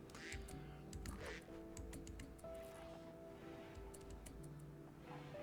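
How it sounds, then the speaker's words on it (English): A duck in the colony game RimWorld gives short quacks now and then over a busy bed of game sounds, ticks and clicks, fairly faint and mixed into the background. "We can haul this duck as well."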